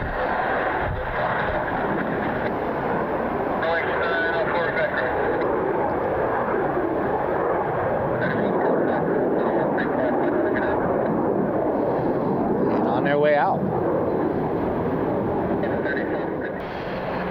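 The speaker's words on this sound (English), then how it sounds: "So that FlexJet Embraer we were talking about, they are on the runway heading out." A FlexJet Embraer business jet departs the runway at Cleveland Hopkins International Airport, its steady engine roar and whine carrying from a distance while people talk nearby.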